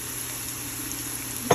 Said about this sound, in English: Now I'm adding the zucchini and then some salt.